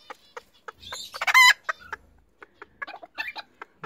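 A broody hen clucking and giving a short crowing-like squawk while quail eggs are tucked under her, close and loud, with a string of soft clucks and fowl calls following.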